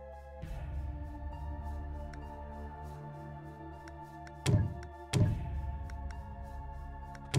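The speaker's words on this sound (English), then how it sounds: "He just fired a couple super weapons, by the way." Super weapons firing in the space strategy game Sins of a Solar Empire: Rebellion, two heavy booming blasts a moment apart over a steady low droning hum, with a third burst starting at the very end.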